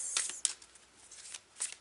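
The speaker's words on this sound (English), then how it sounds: "We're shuffling the cards for pile 3." Tarot cards being shuffled by hand, soft papery riffles and flicks in a few short bursts, quiet and close with no talking.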